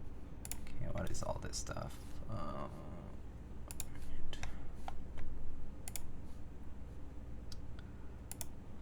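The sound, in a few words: typing test on Matrix Lab 8XV2.0 mechanical keyboard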